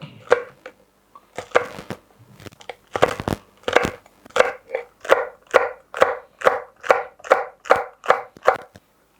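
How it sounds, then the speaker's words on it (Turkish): Steady knife chopping of peppers on a board, a rapid run of sharp, evenly spaced thuds that settles into a regular rhythm, close and clear with no talking. "Evet biberlerimi doğradım"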